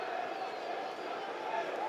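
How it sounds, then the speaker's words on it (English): Derby County fans in a stadium at a Sunderland match keep up a steady, dense crowd roar with sustained chanting throughout. "That's Derby fans you can hear trying to get the side going"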